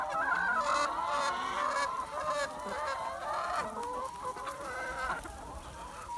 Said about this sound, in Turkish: Tavuklarımız buğday köpeğinin ıslamasını çok seviyor.